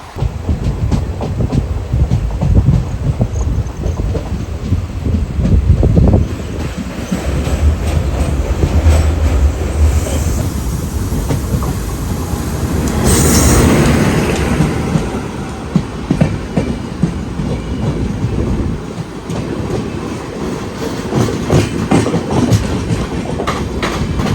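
A passenger train runs on the rails near Ottapalam, Kerala, in the monsoon, with loud, continuous rumbling and rhythmic clickety-clack from the wheels, rising and falling as the coaches roll along, with no voices.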